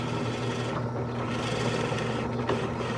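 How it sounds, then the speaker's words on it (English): A drill press countersinks with a brad point bit, giving a steady close whirring hum with a continuous grinding rasp for three seconds and no speech. "I've got my brad point bit, and I'm just going to go ahead and countersink."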